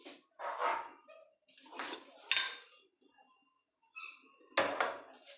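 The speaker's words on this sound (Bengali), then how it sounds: "এবার আমি সব মশলাগুলোকে মেশাবো।" A spoon clinks and scrapes against a bowl as spices are mixed for homemade chanachur, heard as a few short, quiet, close-up bursts separated by pauses.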